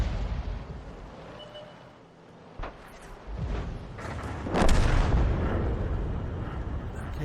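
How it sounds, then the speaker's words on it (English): A 15cm howitzer in a tank video game fires, with several sharp booms standing out over a low rumbling background. The loudest, heaviest blast comes near the end and is followed by a sustained roar. "That's a 15cm howitzer he's commanding."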